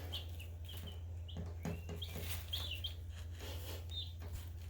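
Baby chicks chirp in short, high peeps scattered across the clip, fairly close but quiet, over a steady low electrical hum.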